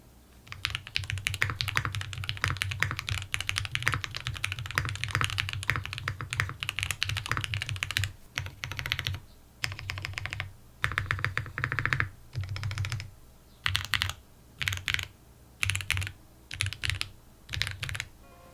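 Typing on a MODE Sonnet mechanical keyboard, close and clear, first as a fast continuous flurry of clacking keystrokes and then as shorter bursts separated by brief pauses.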